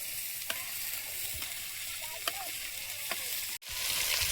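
Sliced beetroot, potato and kohlrabi fry in hot oil, giving a steady, even sizzle with a few faint stirring clinks and one brief dropout near the end.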